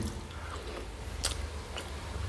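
Sticky rice and grilled pork are chewed slowly and softly up close, with quiet mushy mouth sounds and a few brief sharper smacks in a quiet room.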